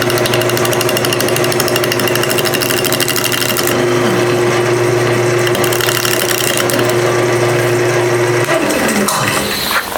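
A wood lathe spins loudly and continuously while a gouge cuts into the turning wood, giving a steady droning hum with rough scraping texture close by, slowing near the end.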